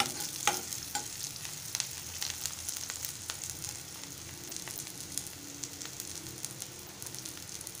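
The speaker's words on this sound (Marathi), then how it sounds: "एक मिनिट फोडणी छान तेलात भाजून घेतली आहे" A tempering of chopped onion and curry leaves sizzles softly in hot oil, with light scattered clicks of stirring over a quiet, continuous fry.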